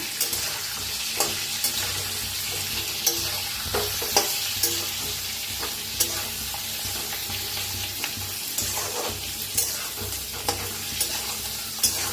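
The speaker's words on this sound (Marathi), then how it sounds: "तर वांग्यांना नाही तेलात असं भाजून घ्यायचं." Brinjals roast in hot oil with spice masala for a khar vangi dish, sizzling steadily while a spoon scrapes and stirs the pan in repeated clicks at close range.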